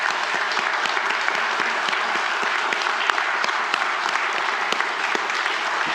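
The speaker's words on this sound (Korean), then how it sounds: "여러분들 한번 박수로 이분들 격려하시기 바랍니다" A church congregation applauding during an elder ordination service, a steady, moderately loud patter of many hands clapping continuously throughout.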